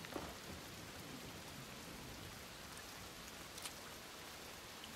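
Steady, soft rain falls in the Desperados 3 game world, a continuous even hiss with a couple of faint brighter drip-like spikes, no voices over it.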